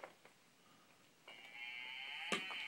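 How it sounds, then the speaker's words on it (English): A cow lets out a long, drawn-out moo with a rising, strained tone, fairly close, after a short quiet stretch with faint background noise. "I heard a cow begin to moo."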